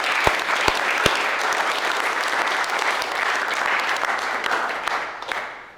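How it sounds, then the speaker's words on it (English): An office audience at an all-team meeting breaks into sustained applause for an award winner, starting with a few sharp near claps and then a dense, steady wash of clapping that fades out at the end. "Give him a round of applause."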